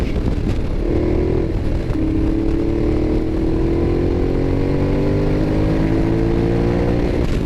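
A 2012 Ducati Diavel muscle bike's engine drones loud and close while riding in fifth gear, a steady rumbling tone that rises slowly in pitch under rushing wind noise, with no talk.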